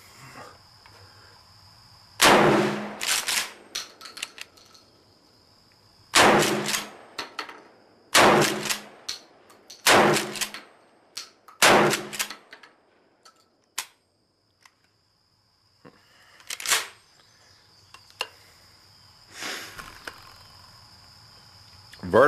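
Firearm shots ring out at an outdoor shooting range, sharp loud cracks in irregular groups of one to three with quiet gaps and a faint insect-like hum in the background.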